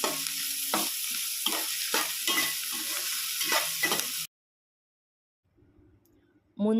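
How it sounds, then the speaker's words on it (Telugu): Onions frying in a pan while being stirred for a spicy egg and tomato curry, a steady loud sizzle with rhythmic scraping stirs for about four seconds, then a sudden cut to near silence before faint sounds return. "గోల్డెన్ కలర్ వచ్చేంత వరకు ఫ్రై చేసుకోవాలి ఆనియన్స్ని"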